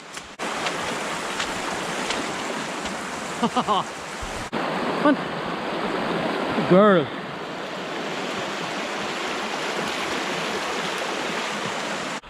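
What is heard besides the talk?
river flowing at a hiking trail crossing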